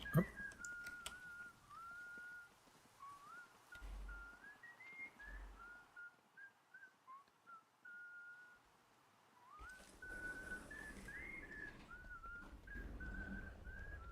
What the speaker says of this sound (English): I can hear him whistling.